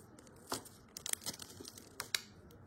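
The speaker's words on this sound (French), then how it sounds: "Je vais ouvrir le fameux sachet des durites." A plastic bag of hoses from a Nissan Skyline GTR scale model kit being torn open, faint close crinkling with a few sharp rips and rustles over about three seconds, no talking.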